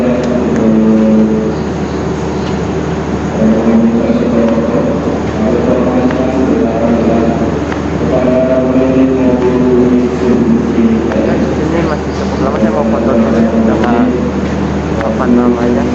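The Fajar Utama Yogya passenger train running on a morning journey, a steady loud rumble and hum of the carriage interior that continues throughout, with voices talking over it.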